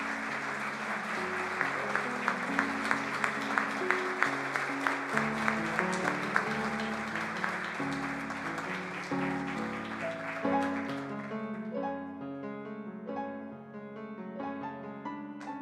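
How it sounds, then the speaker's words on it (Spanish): Audience applause fills the hall at a university's academic-year opening ceremony, with a burst of distinct claps at first that settles into sustained clapping while music plays alongside. "Y le damos un fuerte aplauso."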